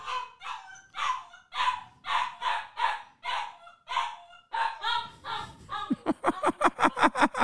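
A Tibetan mastiff puppy cries and barks in repeated whiny yelps, about a dozen evenly spaced calls, then breaks into a faster run of sharp high-pitched barks and squeals at the end, close and clear.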